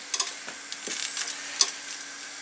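Shrimp sizzle in a pan while cooking for a seafood paella, soft crackling frying with a few sharp pops and stirring scrapes, close and fairly quiet, no talking.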